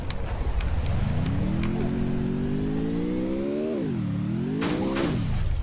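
A vehicle in the Free Fire video game revs and accelerates, its synthetic engine tone climbing steadily, dipping briefly, then rising again; moderately loud and close, with faint game effects around it.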